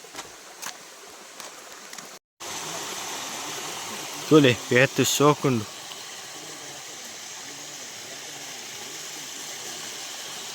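A forest stream of clean water flows through woodland on an estate near Bhangady, making a steady, even rush throughout. People talk briefly partway through.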